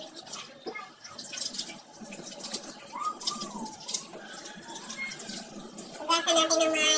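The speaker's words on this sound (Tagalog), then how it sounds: "Hugasan natin ng maayos kasi may mga uod-uod." Sweet potato leaves washed under running tap water for sinigang, with splashing, dripping and rustling of wet leaves, close up, and a louder gush of water near the end.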